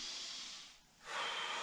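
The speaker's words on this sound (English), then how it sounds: "As you bring the foot up, you want to inhale, exhale" Someone doing a yoga exercise breathes close to the microphone: one airy breath rushes out, a brief pause follows, and then another soft hissing breath comes, all fairly quiet.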